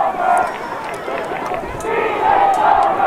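A small crowd at a high school football game at Ruffer Village cheers and shouts through the stands, a moderate murmur with brief whistles and calls beneath a commentator's voice.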